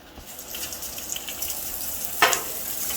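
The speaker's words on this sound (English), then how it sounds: "now it's time to start flipping this bacon" Bacon frying in a pan, a steady hissing sizzle throughout with a brief louder burst of spatter near the end as strips are flipped, no talk.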